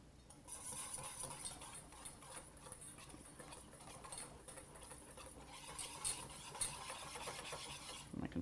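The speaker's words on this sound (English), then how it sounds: "I'm going to gradually whisk it into the milk" A whisk scrapes and clicks against a pot as flour mixture is worked into simmering milk for a sauce, making a quiet, continuous, rhythmic stirring close by.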